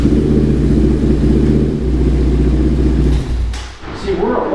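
A Yamaha Raptor 700 ATV engine runs with a loud, steady, low rumble close by, dipping briefly near the end before carrying on, while a voice speaks over it.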